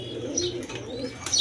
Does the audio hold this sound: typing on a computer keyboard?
no